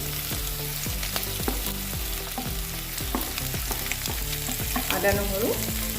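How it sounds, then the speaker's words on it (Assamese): Onions fry with a loud, even sizzle in a pan for boiled chicken, with repeated rhythmic stirring scrapes of a spatula throughout and no talk. "এতিয়া এইখিনি সময়তে আমি ইয়াতে পিঁয়াজখিনি দি লওঁ।"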